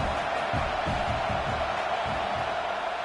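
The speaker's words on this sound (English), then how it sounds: "This crowd trying to make life miserable for this offense." A stadium crowd in the video game College Football 26 roars as a steady, dense wash of noise, loud and unbroken throughout, at Iowa's Kinnick Stadium during a Penn State game.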